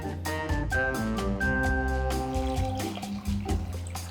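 Water pours into a pot of sauce holding soaked dal, a steady splashing trickle with clear ringing tones from the pot, lasting several seconds with brief clinks along the way.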